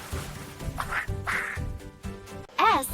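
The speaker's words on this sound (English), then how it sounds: "R is for ruddy duck." A ruddy duck quacks in a few short, nasal calls, close and fairly loud, ending with a stronger rising-and-falling quack.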